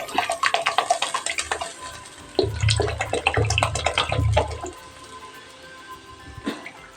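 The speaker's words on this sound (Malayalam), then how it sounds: "ഞാൻ എണ്ണ അതിലോട്ട് ഒഴിക്കുവാണ്" Oil poured into a pot of simmering herbal medicine for a traditional Kerala hair oil, giving liquid splashing and dripping with several low gurgling bursts midway, close and moderately loud, with no speech.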